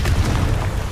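Confringo fire spell explosion in Hogwarts Legacy, a brief loud low boom with rumbling body, heard alone.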